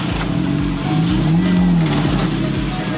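A Jeep Wrangler JL engine revs on a rocky off-road trail at Iron Mountain Park, a close, loud rumble that swells into a rising then falling throttle surge midway, with knocking thumps from the rocks underneath.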